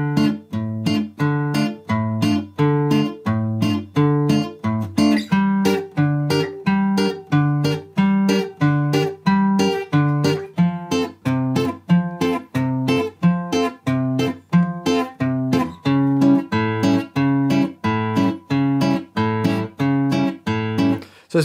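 Guitar playing the opening eight bars of a song at a slowed tempo, a steady, rhythmic run of plucked notes and chords that stays close and fairly loud throughout, with no talking.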